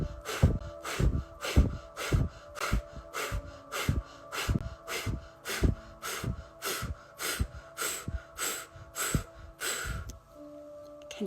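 Guided breathwork in a quiet room: a run of about fourteen sharp, rhythmic breaths, near and loud, each a quick forceful puff in and out through the mouth with short pauses between, easing off toward the end.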